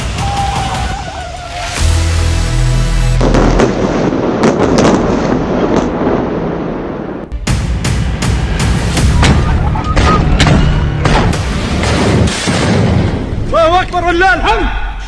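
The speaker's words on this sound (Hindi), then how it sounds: "बहुत से धमाके हो रहे हैं।" Explosions and artillery fire from the Israel–Hamas war in Gaza come as loud, heavy booms and sharp blasts, repeated throughout amid rumbling noise, with voices mixed in.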